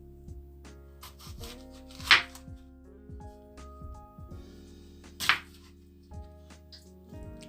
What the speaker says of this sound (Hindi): चलिए अब हम सेब को काटते हैं।